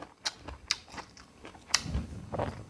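Close-up chewing and biting of rice with fermented fish and vegetables, soft irregular crunches and wet mouth sounds at a quiet level.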